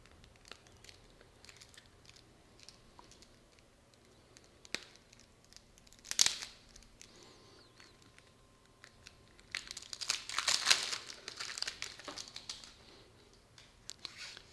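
Plastic wrapper on a KeyForge card deck being torn open, with soft crinkling that builds into two louder bursts of crackling and ripping, close and otherwise quiet.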